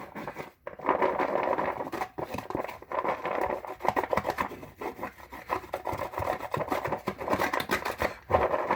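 Coated red fireworks stars being scraped and stirred during priming, a close, steady rasping and rubbing that runs almost without pause, with a few brief gaps.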